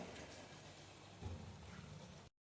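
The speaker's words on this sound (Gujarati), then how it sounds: "અત્યારે બરાબરનો વરસાદ વરસી રહ્યો છે" Heavy monsoon rain pours down as a dense, even hiss of drops, faint and distant, continuing unbroken until it cuts off abruptly.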